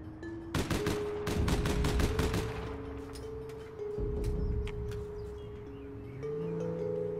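Rapid volleys of video game gunfire ring out while enemies are shot down, a dense burst of shots up front, then sustained loud battle noise with tonal hums and scattered single shots continuing throughout.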